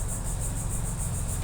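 Cicadas chirping outdoors, a steady pulsing high buzz that runs without pause across the whole stretch, over a low rumbling background hum.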